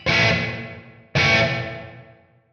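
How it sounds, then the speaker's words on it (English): Two struck guitar chords ring through a reverb effect with its low decay turned up, each bloom fading into a thinned, short tail, loud and close with no voices. "you can hear how the reverb tail has now really kind of thinned out"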